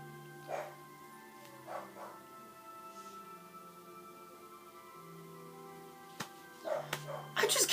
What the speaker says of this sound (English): I just can't win with these fucking dogs.